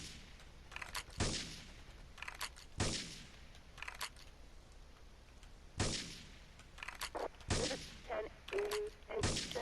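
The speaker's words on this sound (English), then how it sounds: "Investigate reports of gunfire and explosions." Gunfire and explosions in Grand Theft Auto 3 Definitive Edition at Portland Harbor: sharp, loud gunshots and booming blasts burst at irregular intervals, with clusters of smaller shots and game effects between them.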